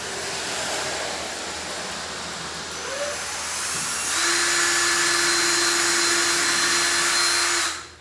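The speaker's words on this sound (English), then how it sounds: "Pre-drill your hole." A power drill pre-drills a hole in wood for a display case, its steady whirring whine running close and loud throughout and rising in pitch and intensity partway through before cutting off, with no talk.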